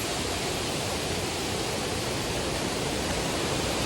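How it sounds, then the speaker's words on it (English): A strong waterfall on a hiking trail in Washington State roars in a dense, steady rush of water, loud and close, with no voices. "Pretty cool waterfall."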